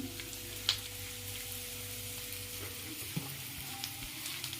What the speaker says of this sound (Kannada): ಈಗ ಹಸಿಮೆಣಸಿನ್ಕಾಯಿ ಹಾಕಿ ಒಂದು ಸ್ವಲ್ಪ ಫ್ರೈ ಮಾಡ್ತೀನಿ.